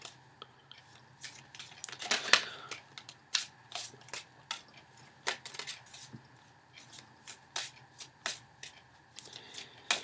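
Cards are shuffled repeatedly, sharp riffling bursts and snaps spaced irregularly across the clip, close and crisp in a quiet room.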